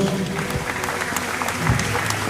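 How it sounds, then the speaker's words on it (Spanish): Applause for people being honored at a ceremony marking the 115th anniversary of the city of Villa Ángela, a steady wash of clapping throughout with a low murmur of crowd noise beneath. "Fuerte el aplauso para ellos."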